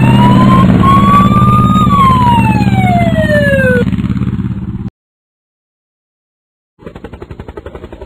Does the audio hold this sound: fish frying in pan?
no